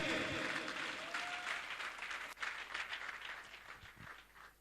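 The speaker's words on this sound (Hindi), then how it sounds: "जोरदार ताली उनके लिए, जोरदार ताली हल्ला बोल के" An audience at a Safe Shop gathering gives loud applause for Mr. Parshuram, sustained clapping heard at a distance and fairly faint, with a brief sharp knock partway through.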